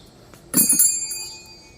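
A small bell, like one rung during church mass, gives a single bright ring that sustains and slowly decays, clear and fairly close, with no talking over it.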